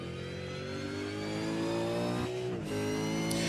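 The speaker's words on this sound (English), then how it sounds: "So obviously this is the warm-up lap, trying to get some warmth into those tyres." A race car on a warm-up lap at a 3.67 km, 14-corner circuit during a car club winter series qualifying session, its mid-pitched engine droning steadily and loudly, then dipping briefly and rising again as it revs.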